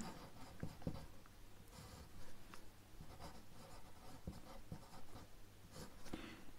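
Pen or marker scratching across paper while labelling a ray diagram of light reflection, with short strokes and taps in an uneven rhythm, close and fairly quiet, and no speech.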